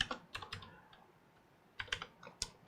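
Keys on a computer keyboard are tapped in two short bursts of quick clicks separated by a pause, close and fairly quiet.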